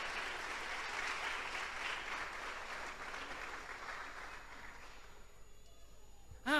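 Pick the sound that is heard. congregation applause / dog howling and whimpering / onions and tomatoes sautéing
congregation applause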